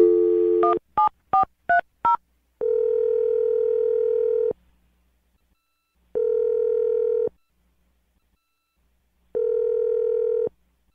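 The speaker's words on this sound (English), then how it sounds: "I'm going to dial her phone number right now." Six quick touch-tone beeps of a number being dialed, followed by three long, evenly spaced ringback tones with silence between them.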